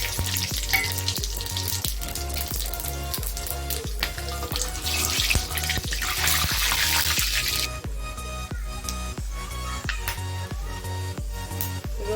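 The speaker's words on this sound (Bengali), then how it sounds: "তেল গরম হয়ে গেছে, গোটা গরম মশলাগুলো দিয়ে দিচ্ছি।" Whole garam masala spices hitting hot oil in a pan for a Bengali onion prawn curry, a loud crackling sizzle over a regular thumping beat of background music, with no talking.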